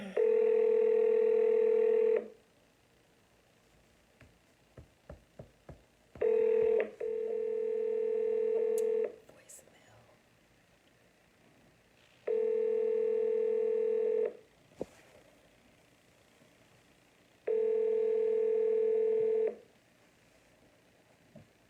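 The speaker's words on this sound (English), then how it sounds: "I'm not familiar with this number, so I'm gonna call." A telephone call being dialed, followed by a steady ringback tone repeating in long even pulses with silent gaps between them, clear and close with no talking over it.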